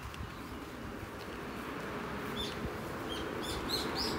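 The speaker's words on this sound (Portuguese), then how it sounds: "Acho que esse passarinho canta muito triste" A small bird sings in a park in Japan, bright high chirps repeating faintly over a steady wash of outdoor background noise, growing a little more frequent toward the end.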